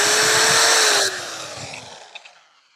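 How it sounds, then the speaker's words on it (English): A power drill runs off a Jackery Explorer 2000 Plus portable power station, giving a loud steady whine for about a second before it cuts off and spins down into a fading hum with a couple of small clicks. "Power drill, for example."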